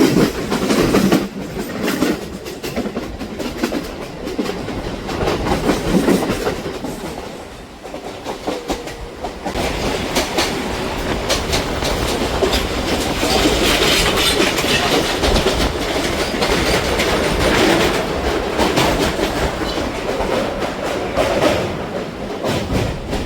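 A Kolkata local train running on the rails between Patipukur and Bidhannagar Road, with a steady loud rumble and rhythmic clickety-clack of wheels heard from inside the carriage, no talk.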